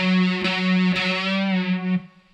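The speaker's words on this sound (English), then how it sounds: "So you go down, down, strum it again, and on that one you do a bend." A loud, distorted electric guitar note bent and sustained with a couple of pick scrapes, held steady before cutting off abruptly.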